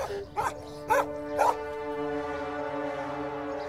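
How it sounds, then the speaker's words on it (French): A dog gives three short barks in a row, close and fairly loud, then lets out a long drawn-out whimper. "Le chien t'a mordu?"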